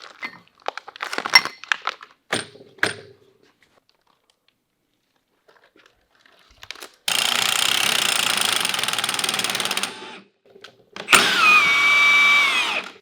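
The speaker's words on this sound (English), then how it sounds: "So we pulled the bearing off" A bearing puller works a pinion bearing off in a school bus build, with scattered clanks and knocks, then long loud bursts of buzzing power-tool hammering separated by quiet gaps.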